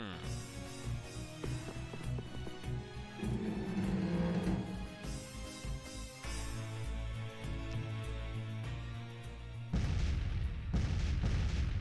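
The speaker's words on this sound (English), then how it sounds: "I hear explosions" Explosions in the video game Tales of Vesperia, repeated booming bursts and thuds amid game music and effects, with a heavier blast near the end.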